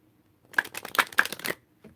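A deck of Romance Angels oracle cards is shuffled up close in one quick burst of crisp riffling flutters, followed by a short tap.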